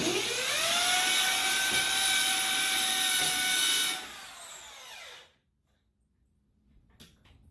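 A power drill bores through a BallistiShield door panel and its crash bar, whining loud and steady for several seconds before winding down and stopping, leaving near silence.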